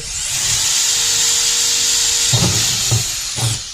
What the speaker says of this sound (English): the reason for using the drill in reverse is so that you don't split your bucket